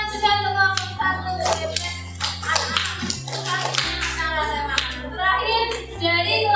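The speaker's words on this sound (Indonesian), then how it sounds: "Tepuk tangan juga untuk kelompok 1." A classroom of children claps in rhythmic unison for a student group, steady patterned applause over a low sustained hum, with young voices mixed in.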